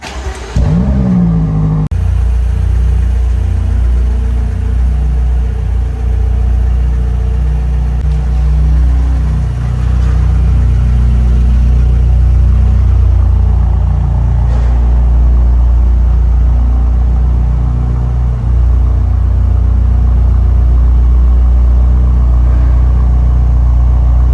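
A 2022 BMW M8 Competition with a 4.4-litre twin-turbo 625 hp engine on a cold start: a sharp crank and flare, then a loud, steady deep idle rumble that holds throughout.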